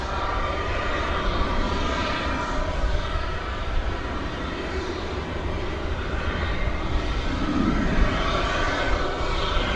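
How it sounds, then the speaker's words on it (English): At DFW Airport, a Turkish Airlines Dreamliner jet rolls along with a constant, even engine roar and whine that fills the whole stretch at moderate distance, without pause. "there's Turkish Airlines Dreamliner on the move, preparing for its blast off to Istanbul"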